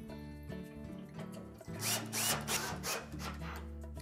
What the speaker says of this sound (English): Now we'll install those two screws.